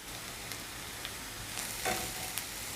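Coriander tossed into onions frying in a pan, a steady soft sizzle with a few light stirring scrapes and a brief louder burst near the end, no voices.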